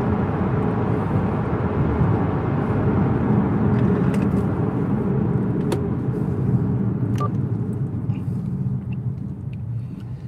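A car driving on a road and slowing for a red light, a steady low engine and road rumble close inside the cabin, fading slightly toward the end, no talking.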